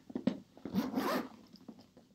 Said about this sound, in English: It has this double zip closing